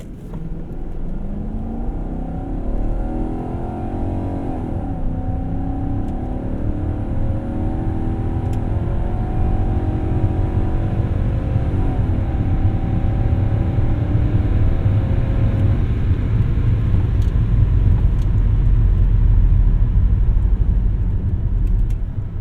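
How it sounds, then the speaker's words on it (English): A 1998 BMW 740iL V8 revs out in a long, steady climb of engine pitch, loud and close, building smoothly over many seconds with a deep rumbling undertone and no talk. "if you want to rev it out, you can still hear it. And the V8 makes such a glorious note."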